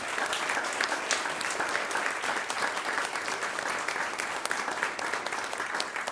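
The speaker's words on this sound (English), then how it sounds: "Let's give one more big round of applause to our Challenge Award recipients." A dense, continuous round of applause from an audience at a school board recognition ceremony honoring award recipients, even and sustained throughout with no pauses.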